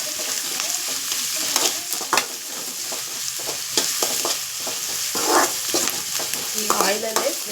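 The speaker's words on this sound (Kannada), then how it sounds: "ಮತ್ತು ಆನಿಯನ್ ಸ್ವಲ್ಪ ಫ್ರೈ ಮಾಡ್ತೀನಿ." Onion frying in hot oil for a simple fried rice gives a steady, close sizzle, broken by stirring scrapes and clacks of a utensil against the pan.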